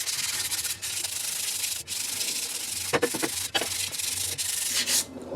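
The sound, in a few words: hand sanding chrome differential cover with sandpaper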